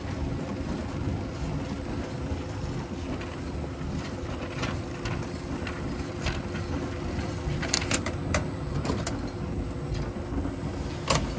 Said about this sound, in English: Here it's going to load the next roll on for us.